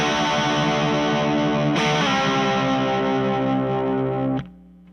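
A loud, heavily distorted electric guitar chord, played direct into an amp with gain fully up and no pedals, rings out sustained and buzzy, shifts once, then is abruptly cut off leaving a faint hum.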